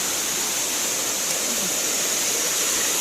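Teket waterfall on Tioman island, a steady, dense roar of falling water with no let-up, loud and close.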